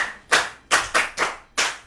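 Children at a Yoruba-language school programme clap for a pupil in five short, rhythmic bursts, each a quick flurry of many hands, close and fairly loud with brief gaps between.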